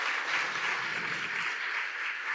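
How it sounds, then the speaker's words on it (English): Audience applause for a speaker at a blockchain conference stage session, a smooth, continuous wash of many hands clapping, fairly soft and even, with no voices. "let's give a round of applause for Sir Vitalik."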